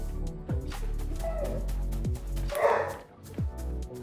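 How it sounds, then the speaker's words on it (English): A dog barks several times in quick, sharp yips, close and moderately loud, over a steady low background hum, with a few separate bursts spread across the moment. "Cause like, it's just a dog."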